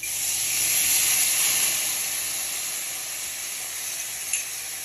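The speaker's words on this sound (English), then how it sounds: "I'm going to give it a little stir." A veggie and tofu stir-fry with sauce hisses loudly and steadily in a hot pan while being stirred, with a small clink near the end.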